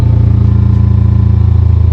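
A loud, close Volkswagen Scirocco engine idles with a steady, rapid burbling pulse through the exhaust, an even throb that continues without pause.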